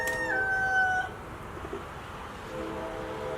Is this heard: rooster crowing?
yes